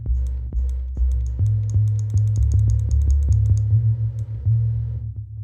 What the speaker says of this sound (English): you can hear my mouse clicking a lot now